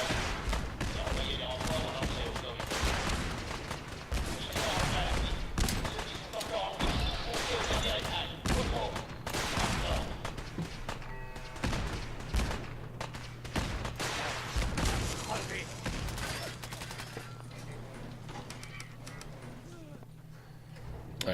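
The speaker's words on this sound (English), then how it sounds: "lots of shots fired" Rapid bursts of Fallout 4 video game gunfire crackle repeatedly alongside voices, with scattered single shots and a low hum toward the end.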